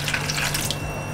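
Broth poured into a minced meat mixture for Romanian mici burgers gives a close, steady watery splashing and trickling that runs for about a second with no talk.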